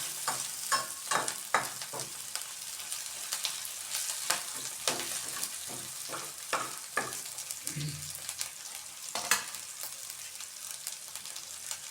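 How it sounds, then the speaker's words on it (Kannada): Onion frying and being stirred in a pan for spinach upma: a steady sizzle with repeated scraping stirs of a spatula, close and fairly loud, no talking. "ಈರುಳ್ಳಿಯನ್ನು ಫ್ರೈ ಮಾಡಿಕೊಳ್ಳಬೇಕು."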